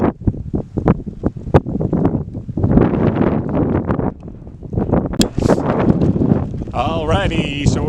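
Gusty wind buffets the microphone with rough low rumbling bursts, loud and close, at a wild camp by Bellever Forest and Riddon Ridge, while a voice talks through much of it.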